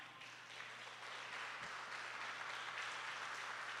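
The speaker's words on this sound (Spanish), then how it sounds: "Dele un fuerte aplauso a Cristo." Church congregation applauding during a Spanish-language sermon, a steady, dense wash of clapping that swells slightly and continues throughout, moderately distant with a low hum underneath.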